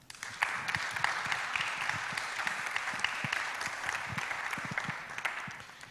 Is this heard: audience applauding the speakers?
yes